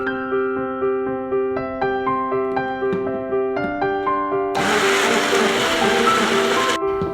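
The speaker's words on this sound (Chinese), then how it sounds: "拿出榨汁机，准备打芒果泥" A blender whirs in repeated short bursts, then runs continuously at a louder, fuller roar near the end, pureeing mango chunks with a little milk for a Hong Kong–style mango dessert.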